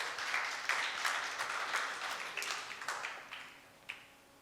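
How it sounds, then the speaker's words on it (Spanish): A church congregation applauds during a Spanish-language Easter sermon, with a wash of many hands and distinct sharper claps standing out, gradually thinning toward the end. "Dale un aplauso al Señor"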